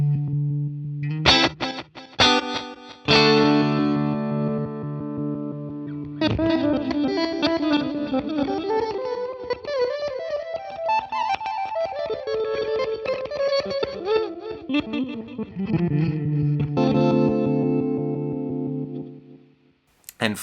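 Guitar through a Boss DD-20 delay pedal in reverse mode: swelling, backward-sounding phrases with a chorus-like shimmer and distorted edge, a few plucked notes first, then a long sustained wash that rises and falls before fading out.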